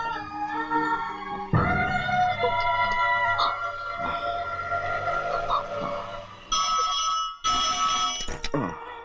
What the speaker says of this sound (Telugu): అమెరికా నుండి ఫోన్